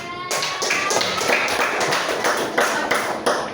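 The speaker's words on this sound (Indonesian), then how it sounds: "Tepuk tangan." Schoolchildren in a classroom clap their hands in a ragged, fairly close burst of overlapping claps, with a few sharper accented claps standing out.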